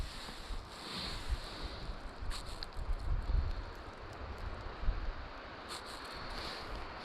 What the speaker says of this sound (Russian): Ветрюган сегодня